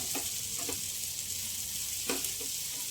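Potatoes frying in a pan for a Telugu-style aloo fry, giving a steady hiss of sizzling oil with a few soft clinks from stirring and no talk.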